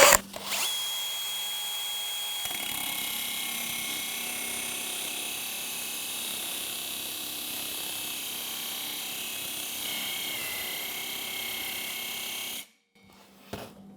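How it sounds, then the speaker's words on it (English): An electric drill whines steadily at high speed while a dull wood-and-metal oscillating tool blade is sharpened, a constant harsh grinding drone lasting about twelve seconds before it cuts off abruptly. "So I've just chucked this up in the drill here."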